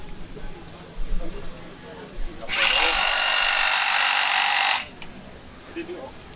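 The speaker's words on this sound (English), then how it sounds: "this is a standard tooth cutter when it hits rebar" A standard tooth cutter on a power drill bites into rebar in a close, loud burst of harsh grinding that lasts about two seconds and then cuts off, with quiet background before and after.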